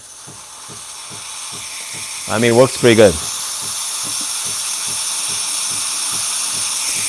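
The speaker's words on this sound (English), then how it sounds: "If you turn on the steam, here, about 3 seconds." Steam wand of a Breville Barista Pro espresso machine hisses as a steady bright wash with a soft ticking pump pulse underneath, running throughout while someone talks briefly midway.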